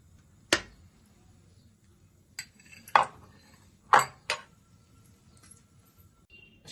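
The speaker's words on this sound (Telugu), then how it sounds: "ముందుగా స్టవ్ వెలిగించుకొని కడాయి పెట్టుకొని 2 స్పూన్లు నెయ్యి వేసుకుందాం." A kadai pan is set on a stove and ghee spooned in, heard as a handful of sharp, close metallic clanks and taps spaced irregularly against near silence.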